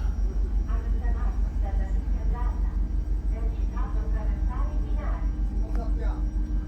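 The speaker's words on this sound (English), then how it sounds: "We're back on a train" Interior of a moving train in southern Italy on the way to Matera, with a steady low rumble and rhythmic pulsing hum from the carriage beneath a voice talking close up throughout.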